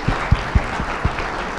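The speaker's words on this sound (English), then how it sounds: "A round of applause to Sophia." Audience clapping for Sophia the humanoid robot at a public event in Cambodia, heard as a few sparse, separate claps over a low room murmur rather than a full round of applause.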